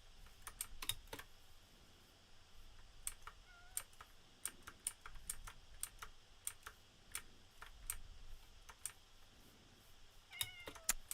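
A Minecraft cat meows a few short times amid steady clicking of a computer keyboard, the meows faint and brief against the quiet typing.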